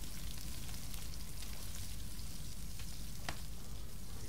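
Fish cooks over a fire in the survival game Stranded Deep, giving a steady, even sizzle and crackle like light rain that runs without a break, with no talk.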